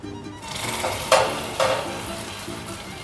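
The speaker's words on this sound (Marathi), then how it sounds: "ही कॅरेमलाइज झालेली साखर एकदम थोडी थोडी याच्यात मिक्स करायची" Caramelized sugar stirred a little at a time into hot milk for malai kulfi, giving a steady loud sizzle and bubbling with two sharp scraping clatters of a spoon against the pan, no voices.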